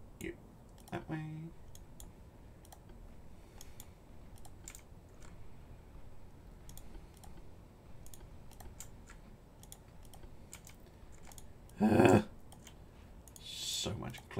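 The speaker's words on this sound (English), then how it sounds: "So much clicking." Rapid mouse clicks come in scattered bursts while ships are ordered around in a naval battle strategy game, light and close, with a louder cluster near the end over faint background noise.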